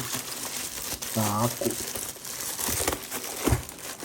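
Packaging of a new AKKO TAC75 HE magnetic keyboard crinkles and tears in short bursts close by, with someone speaking briefly over the rustling.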